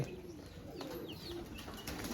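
Pigeons coo softly amid a faint, noisy outdoor background, with a brief flutter of wings.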